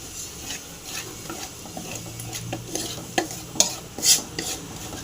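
Ingredients stirred and fried in oil with roasted fenugreek for a raw mango dish, a steady close sizzle broken by repeated scraping strokes and sharp spatula knocks against the pan.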